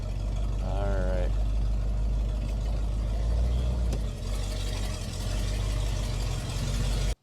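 A 1975 Buick LeSabre convertible idles after rolling in, its low steady engine rumble running throughout at close range, with a brief voice near the start.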